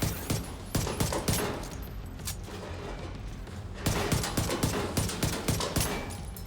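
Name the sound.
gunfire in the video game The Division 2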